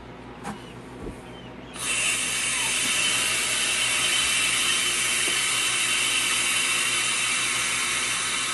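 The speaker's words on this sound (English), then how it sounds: "I will pop the drain valve and let the vacuum" After a few quiet clicks, a sudden loud rush of air bursts out as the drain valve releases vacuum from a freeze dryer tank, continuing as a steady, forceful hiss.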